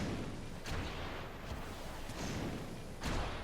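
Explosions in the video game Jak 3, heavy booming blasts over a dense, continuous rumble of game noise, with thumps recurring every second or two.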